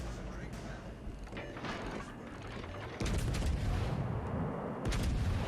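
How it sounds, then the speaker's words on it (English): Warship guns fire during a naval battle in a ship combat video game, a few muffled booms and blasts rising over a rumbling backdrop, with a voice talking over the action. "And I do get a couple shots off at the very end"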